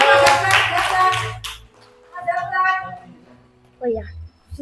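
A brief burst of applause from the audience at a children's storytelling contest opens the moment, a dense patter of clapping hands for about a second and a half, followed by people talking.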